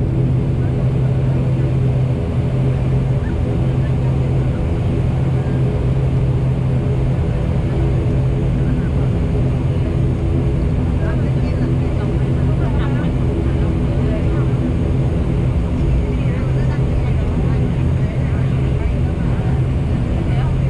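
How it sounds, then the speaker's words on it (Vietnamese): Steady, loud cabin drone inside an ATR72 turboprop airliner taxiing and turning onto runway 25L, a continuous engine and propeller hum with a strong low tone that holds unchanged throughout. "Bây giờ máy bay chuẩn bị rẽ vào đường băng cất cánh 25L."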